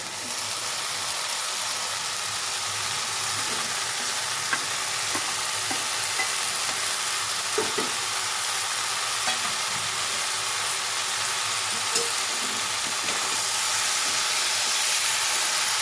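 Fried vegetables stirred into kolmi greens in a hot pan, a steady bright sizzle running throughout, with scattered spoon scrapes and clicks as the mix is turned.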